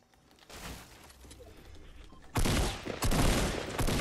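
Gunfire in the Fortnite video game, starting as scattered distant shots and turning into loud, close bursts of rapid fire in the second half.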